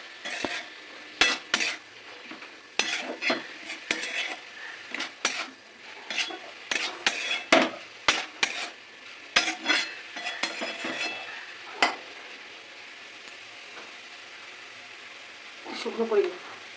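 Sugar stirred through food in a pan with a utensil: a string of sharp scraping clinks and taps against the metal, irregular and close, with a faint sizzle underneath and a short burst of talk near the end.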